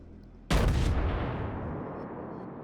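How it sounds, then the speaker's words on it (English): A single heavy naval gun salvo from the Nassau in World of Warships booms out loud and close, then trails into a long rumbling decay. "Another shell hit, 0 damage again."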